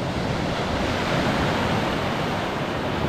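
Baltic Sea waves break on a beach as a continuous, dense roar of surf, loud and close, with wind noise and no voices.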